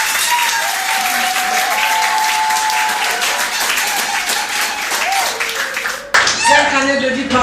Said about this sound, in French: Applaudissez pour nous.